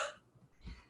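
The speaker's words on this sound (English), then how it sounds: "give a cough to the earth" A single short cough during a Qi Gong class, close and fairly soft, after a brief breathy sound.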